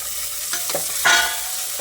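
Onions and tomatoes sizzle in a cooker for a Chettinad black chickpea kuzhambu, with a few stirring scrapes and a brief louder hiss as food moves.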